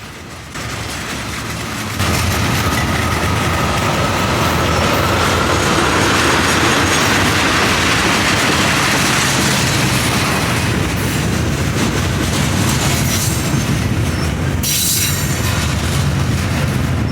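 A Union Pacific freight train led by an SD70ACE locomotive rumbles past close by, loud and continuous, with wheel clatter and squeal building then holding for the whole stretch.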